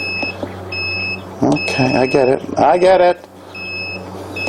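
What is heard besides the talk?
egg incubator alarm beeping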